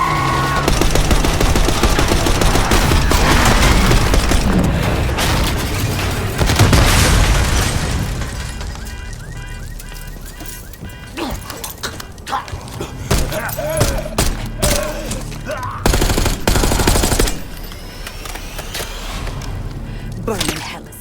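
Call of Duty: Black Ops 6 street combat. Loud machine-gun fire and explosions pound for several seconds, then thin out into scattered shots and bursts, with voices shouting over the fight.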